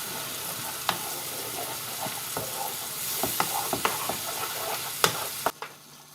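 Chopped chilli sauce ingredients sizzle in a pan over medium heat, a steady close frying hiss broken by occasional clicks and scrapes of stirring, with the sizzle cutting off abruptly near the end.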